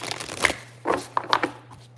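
Tarot cards shuffled by hand in a few short riffling bursts, close and fairly soft, with a low steady hum underneath.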